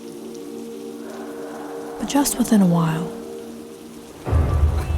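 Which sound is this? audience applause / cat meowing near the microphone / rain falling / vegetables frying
rain falling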